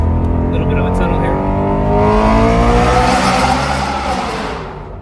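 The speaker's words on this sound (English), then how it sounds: "Okay, so the valve's open. It's definitely louder." A BMW E93 M3 with a budget Alibaba valved muffler, valve open, revs loudly in a tunnel, a rising and falling exhaust note that swells and sustains near and fades slightly at the end.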